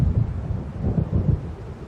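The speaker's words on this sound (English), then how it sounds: "It seems there's a storm coming." Low rolling thunder of an approaching storm in the video game Alan Wake Remastered, a continuous deep rumble that swells and fades in waves, steady and fairly loud with faint wind-like hiss above it, no voices.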